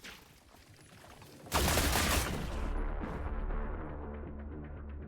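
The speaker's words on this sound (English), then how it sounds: "I am running out of machine gun bullets" A loud, sudden burst of machine gun fire in the Last Caretaker video game, cutting in abruptly and settling into a sustained heavy rumble and hum.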